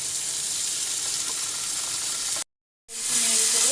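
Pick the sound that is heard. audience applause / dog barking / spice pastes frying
spice pastes frying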